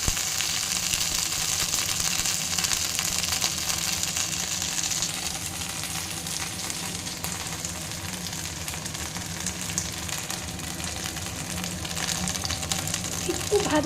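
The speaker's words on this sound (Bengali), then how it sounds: "কচুটা একটু ভেজে দেবো।" Taro frying in a pan gives a steady, loud, close sizzle that runs unbroken throughout with little variation.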